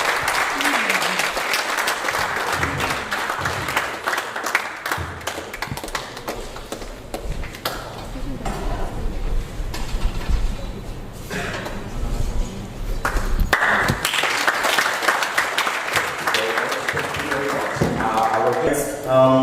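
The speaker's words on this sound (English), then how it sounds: "Round of applause." A round of applause at a cybersecurity meetup award presentation, a long spell of crowd clapping that swells and thins, with voices and a tapping ping sound running through it.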